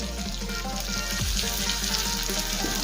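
Two beaten salted eggs frying in a spoonful of butter over a high gas flame, a steady loud broadband sizzle running throughout without pause, with no talking.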